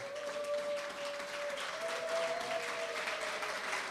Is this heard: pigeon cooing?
no